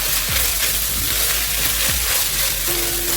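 Minced boiled fish with curry powder is stirred as it fries in a pan over medium heat, a loud, steady, close sizzle with a few soft scraping strokes of the spoon.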